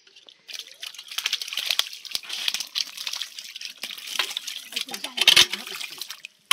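A large shingi catfish, its belly full of eggs, is released into a pond, setting off a loud, sustained rush of splashing and churning water close by for several seconds, ending abruptly.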